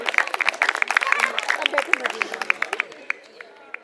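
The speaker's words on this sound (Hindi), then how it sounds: "ढेर सारी तालियां" Applause at a women's day and spring festival gathering at a medical college, scattered sharp claps rising over crowd chatter before thinning out to a few isolated claps.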